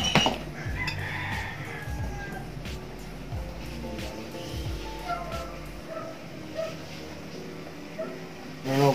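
Chickens around a home, clucking at close range amid busy household noise with clattering dishes and utensils, plus a possible cat or dog in the mix.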